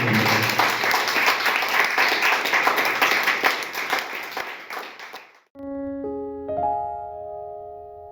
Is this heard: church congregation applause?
yes